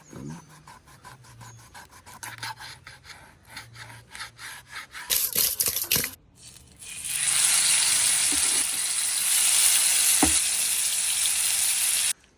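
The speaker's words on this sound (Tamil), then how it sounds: "அதனால் இப்போ நம்ம இந்த மீனை வந்து வறுக்க போகிறோம்." Fish frying in a pan: scrapes and handling noises first, then a loud, steady sizzle settling in from about midway and running to the end, no voices.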